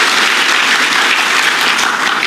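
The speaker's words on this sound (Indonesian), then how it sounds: "Coba kasih tepuk tangan dulu buat guru-guru sekolah minggu." A church congregation claps loudly and continuously for Sunday school teachers, a dense, even burst of applause lasting a couple of seconds.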